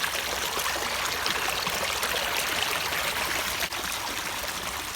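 Creek water flows steadily in a continuous, close rushing trickle with no pauses, heard alone without voices.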